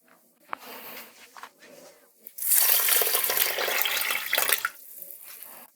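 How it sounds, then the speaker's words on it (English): Water pours from a tap into a pot of uncooked jasmine rice, a loud, sustained splashing rush lasting a few seconds after some soft handling clatter, then stopping. "And now we can add water."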